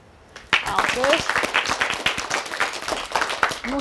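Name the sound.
audience applause at children's show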